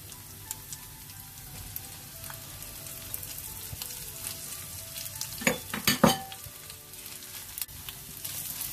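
Kaffir lime and ginger pulp fry in hot oil for crispy fish with three flavours, a soft, steady sizzle with a burst of louder stirring and spattering near the middle.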